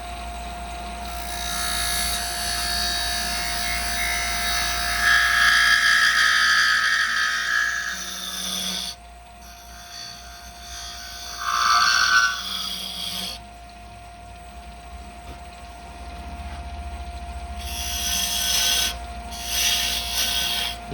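A wood lathe turns a small wooden spinning top as a tool cuts into it, giving scraping, hissing bursts with faint singing tones, broken by quiet pauses between cuts over a steady motor hum.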